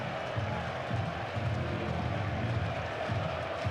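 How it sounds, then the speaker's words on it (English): Cricket crowd at a Lancashire v Yorkshire Roses T20 match cheering and clapping after a Bairstow wicket, a steady broad roar of many voices with scattered applause, fairly distant and continuous. "Well, the crowd have enjoyed that, haven't they?"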